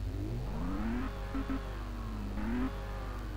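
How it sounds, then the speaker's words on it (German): Car engine in the racing game Test Drive Unlimited 2 hums at low revs with tones rising and dipping, a steady close drone heard alone with no talk. "Und das erste ist der Motorsound."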